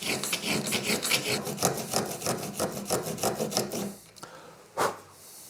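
A hand tool cuts wood while a friction-fit pencil case is being made. It gives a quick series of rasping, scraping strokes in a regular rhythm, then stops, leaving a couple of faint isolated scrapes.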